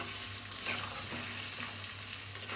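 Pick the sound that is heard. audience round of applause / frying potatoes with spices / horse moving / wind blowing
frying potatoes with spices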